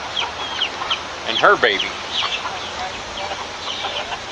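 A Silkie hen and her chick cluck softly on a rainy farm, with brief chirps and one louder cluck near the middle, under a person talking quietly outdoors.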